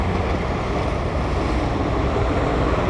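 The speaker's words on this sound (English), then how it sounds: "so you can just hear the ocean" Steady rushing wash of ocean surf, broad and continuous, with wind noise blended in and no voices.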